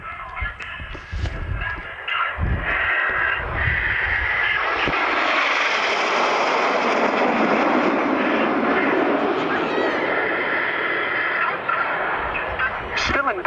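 Aerobatic jet formation roaring past in a diamond at an airshow in Newtownards in 1999, a loud sustained engine wash building and holding, with a commentator talking over the noise at the start.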